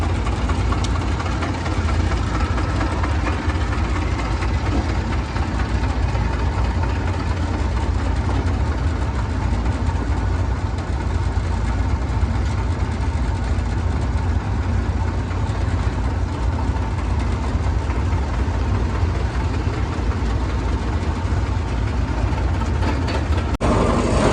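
A tractor engine runs at a steady idle for the whole stretch, a loud, constant low rumble with no change in pace and no clear talking.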